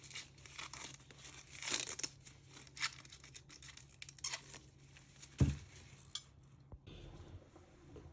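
Onion skin being peeled by hand, with dry crinkling and tearing rustles, a few sharper rips and a soft thump, close and quiet, no talking.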